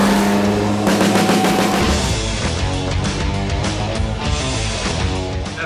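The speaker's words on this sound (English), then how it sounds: "the off-road race car at the end is my real life race car" A loud off-road race car roars continuously, its engine note shifting as it accelerates, with tire noise and rumble under a dense mechanical drone throughout.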